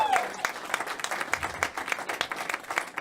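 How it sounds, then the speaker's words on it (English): Applause from an audience at a city open house event, a scattered crowd clapping steadily at moderate volume with individual claps audible. "Give him a big round of applause."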